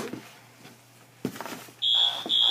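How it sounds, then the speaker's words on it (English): A loud, steady high-pitched electronic beep sounds twice, each tone held, after a quiet stretch with faint rustling. "Oh, see, there's the beeping."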